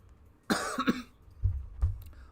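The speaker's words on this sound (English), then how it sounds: "Also, I do have a bit of a cough." A single sharp cough bursts out, followed by a couple of lower throat-clearing sounds, close and fairly loud.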